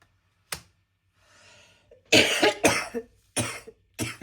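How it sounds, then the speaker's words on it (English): Several harsh coughs come in short bursts, one alone and then a cluster of loud, close coughs with brief pauses between them. "I'm sorry about the coughing."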